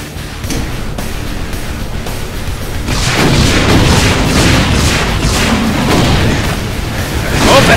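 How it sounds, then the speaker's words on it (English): A rocket launcher fires in the Brutal DOOM video game, with a run of heavy booming blasts that build into a loud, continuous rumble of explosions in the second half. "let me use the rocket launcher instead."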